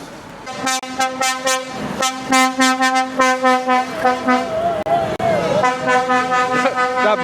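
Big lorry sounding its horn at a protest march, loud repeated horn blasts in an irregular rhythm, close by, over crowd noise and faint voices.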